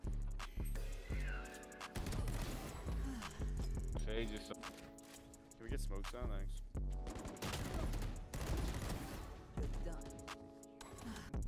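Bulldog rifle fire with a Thanos skin in a tactical shooter game: rapid repeated bursts of shots mixed with loud game effects and music, with a voice talking over the action.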